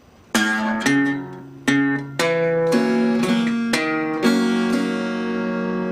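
An acoustic guitar plays a short country blues sequence of plucked notes and strums descending the neck in an easy rhythm, close and clear, with no voices.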